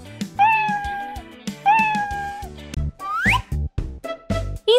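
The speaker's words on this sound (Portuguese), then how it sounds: "e o gato mia." Cartoon cat meowing in a children's musical animation, with long drawn-out tonal meows repeated, then a rising cry, over bouncy background music with no talk.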